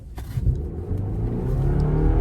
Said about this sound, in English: We're going to do a full throttle with traction off now.